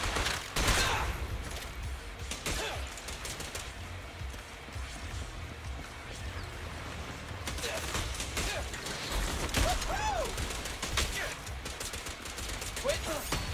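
Gunfire in a video game crackles in dense bursts of repeated shots that run through the whole passage, loud and close, with mechanical clatter mixed in and the odd voice under the shooting.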